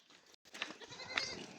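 A goat bleats twice, short and fairly close, against a noisy rural outdoor background near a spring on the way to a temple.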